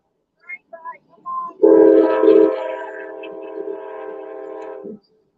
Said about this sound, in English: it'll probably get loud for a minute because we got a train coming through